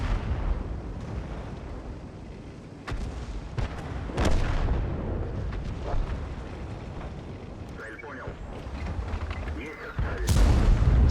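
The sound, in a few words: tank cannon fire and hits in World of Tanks video game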